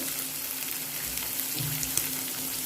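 Spices sizzle steadily with boiled taro greens in a pan for a vegetarian taro stem dish, a close, constant frying hiss with faint stirring scrapes.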